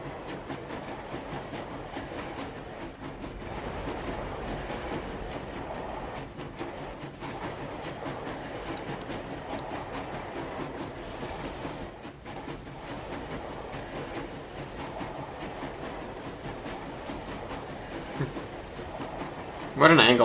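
A train rolls along the rails with a continuous rumble and occasional clacking, a steady mechanical drone throughout, ending in a brief louder burst.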